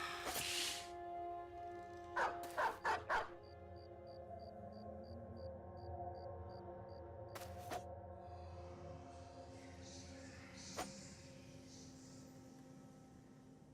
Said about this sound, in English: Now we release more puppies.